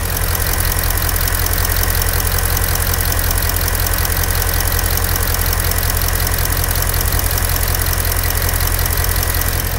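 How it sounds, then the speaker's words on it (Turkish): A Mercedes ML450 V8 CDI diesel engine with heavy soot buildup idles steadily nearby, a loud continuous rumble with a faint knocking clatter throughout. "Aracımızın motor sesini dinletelim"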